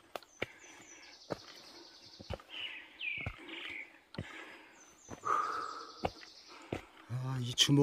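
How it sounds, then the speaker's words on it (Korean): Birdsong in a mountain forest on Gariwangsan, with high chirps and trills scattered through a quiet wooded setting, interrupted by footstep-like thumps and brief rustles from someone hiking nearby. "새소리도 나고"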